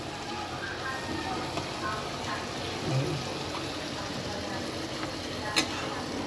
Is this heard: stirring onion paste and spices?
yes